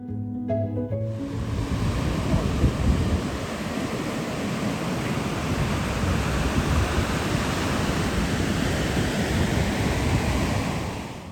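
Ocean waves at Apollo Bay beach on the Great Ocean Road in Australia make a loud, continuous roar of surf that fills the scene for the whole stretch, with wind buffeting the microphone and no one talking.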